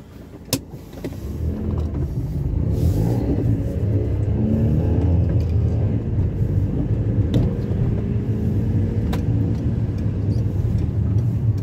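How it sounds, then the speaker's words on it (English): A 2005 Peugeot 307 S CC with its exhaust back box deleted idles and revs, a deep, throaty rumble heard close with a couple of sharp clicks and pops near the start. "Hopefully you can hear the exhaust a little bit better."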